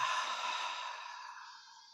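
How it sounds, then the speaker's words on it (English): A long, breathy exhale from a breathing exercise before singing, airy and close, fading gradually over two seconds with no words. "Breathing exercises first."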